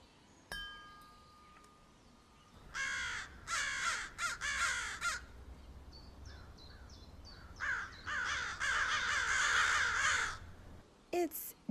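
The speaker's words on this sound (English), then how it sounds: "It's just crows" Crows cawing in a series of harsh, repeated calls, several rapid bursts in clusters, fairly close and loud over a quiet low hum, with a brief voice at the end.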